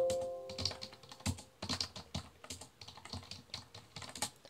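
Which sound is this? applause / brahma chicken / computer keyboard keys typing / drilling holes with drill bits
computer keyboard keys typing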